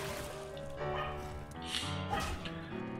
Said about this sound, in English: Shira's barking at the back door.